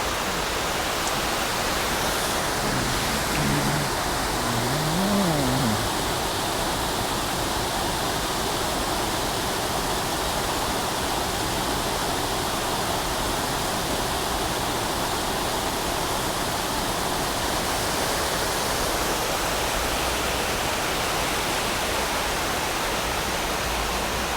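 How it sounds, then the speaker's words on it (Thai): Kroeng Krawia waterfall in Sangkhla Buri, Kanchanaburi, gives off a constant, even roar of falling water that holds steady and unbroken for the whole stretch, with no voices over it. "นี่เราก็จะพามาดูบรรยากาศน้ำตก"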